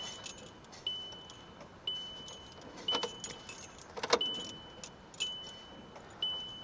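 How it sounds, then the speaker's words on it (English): Inside a car being serviced, the ignition key clicks and a repeating warning chime rings roughly once a second, with faint clicks and rattles between; the rear fuel pump's whir is quiet and hard to pick out. "turn the ignition one turn, and you can hear, if you turn all the fans off and everything, you can just hear the fuel pump whirring in the back of the car"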